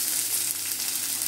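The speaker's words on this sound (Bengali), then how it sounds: "আমি হালকা ছিপছিপা তেলের ভিতরে টমেটোগুলো দিয়েছি" Tomatoes frying in a shallow layer of hot oil give a steady, close, dense sizzle that holds evenly throughout, with no voices.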